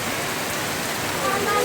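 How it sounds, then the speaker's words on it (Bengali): Rain falling on the tin roof of a house, a dense steady hiss of drumming drops, close and continuous. "টিনের ঘরে বৃষ্টি হচ্ছে"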